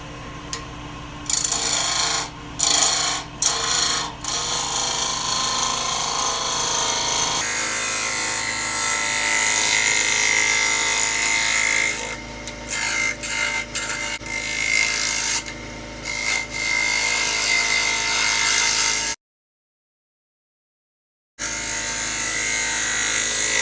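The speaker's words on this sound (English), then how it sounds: "I'm going to cut directly into the bowl." A bowl gouge cuts into a twice-turned wooden bowl spinning on a lathe at about 1600 RPM, making loud, continuous scraping and shaving in repeated bursts, with one short silent break near the end.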